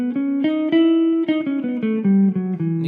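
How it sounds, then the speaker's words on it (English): Solo guitar plays a melodic minor scale as a run of about a dozen distinct plucked notes moving step by step in a steady rhythm, close and clear with no talking. "And a melodic minor scale, we're just going to make it minor sounding."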